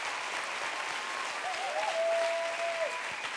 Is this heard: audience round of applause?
yes